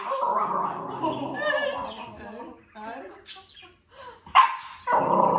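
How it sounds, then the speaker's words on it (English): A Shiba Inu dog barking indoors at a stranger in the house, giving a few close, sharp barks and yips mixed in with people talking. "She barked at you."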